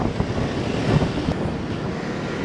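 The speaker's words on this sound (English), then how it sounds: "Still a bit windy." Gusty wind after Typhoon Molave buffets the microphone on a bike ride through storm-damaged streets in Da Nang, a steady low roar rising and falling without a break.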